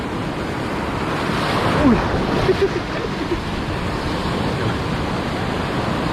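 Waves breaking at the edge of a reef make a steady, broad wash of surf, with wind noise on the microphone and a brief voice near the middle.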